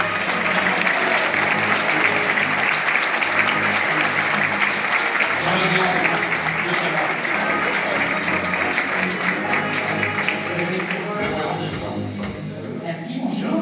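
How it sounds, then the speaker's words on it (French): An audience at a doctoral ceremony at the Université de Lorraine gives sustained, dense applause that continues steadily and thins slightly near the end. "Madame Hélène Boulanger, s'il vous plaît, sous vos applaudissements."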